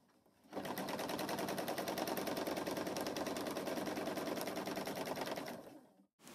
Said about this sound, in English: Continue sewing until you have completed the oval.